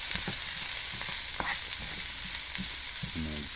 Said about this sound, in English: Once you see your onions starting to get some color to them, go ahead and give them a stir.